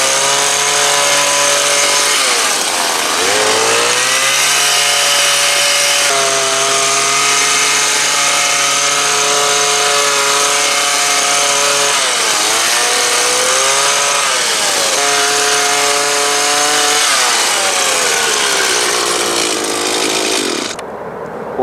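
A Stihl hedge trimmer with freshly sharpened blades shears through a living hedge wall: a loud, continuous motor whine that dips and surges in pitch as the blades bite, alone and close for the whole stretch.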